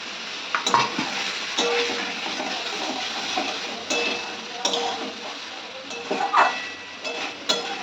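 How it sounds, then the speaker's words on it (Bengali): Mixed vegetables for shukto, including potato, drumstick, papaya, green banana, brinjal and bitter gourd, sizzle softly in a pan while a spoon scrapes and clinks against the metal at an irregular pace. "সবজিগুলো ভাজা হয়ে গেছে"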